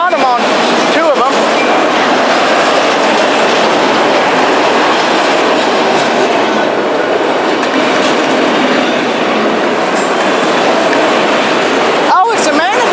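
A CSX manifest freight train led by two SD70 locomotives rolls past close by, continuous rumbling and clattering wheels with occasional squeals, loud and sustained throughout.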